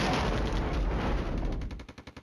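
Artillery fire rumbles in the Flashpoint Campaigns: Red Storm war strategy game as a dense, booming barrage. It then breaks into a quick series of sharp, evenly spaced bursts that fade out.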